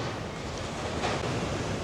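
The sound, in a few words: ocean waves breaking on the beach in Tenerife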